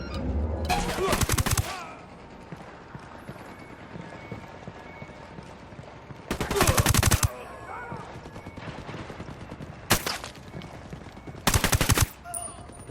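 Gunfire in a firefight in the video game Ghost Recon Wildlands: loud automatic bursts come in several separate volleys, with short single shots between them and a low background bed of game ambience.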